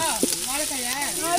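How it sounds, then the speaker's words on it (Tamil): Onions deep fry in a pan over a wood fire with a continuous hissing sizzle and a couple of brief scraping stirs, while a voice talks over the cooking noise. "Deep fry. வெங்காயம் வந்து நல்லா ப்ரௌன் கலர் வர வரைக்கும் வதக்கணும்."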